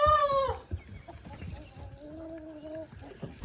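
Roosters at a goat show, one crowing loudly at the start followed by clucking and a second drawn-out call, with other farm noise around.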